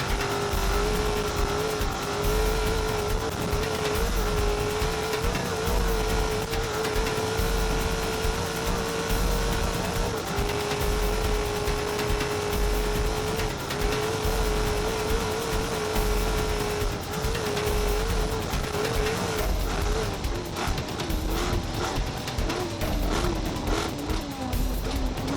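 A Ford F-150 truck racing the Finke desert race, a sustained engine drone with a steady pitch that shifts slightly, heard loud throughout.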